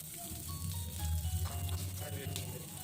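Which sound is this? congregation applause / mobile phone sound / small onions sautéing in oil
small onions sautéing in oil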